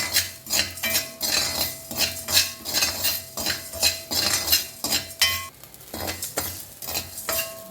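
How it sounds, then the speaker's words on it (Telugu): Salt being dry-roasted in a pan for gongura karam, stirred with a utensil in a steady rhythm of close, loud scraping and grainy rattling strokes, with no talking over it. "ఉప్పు వేగింది తీసేస్తున్నాను"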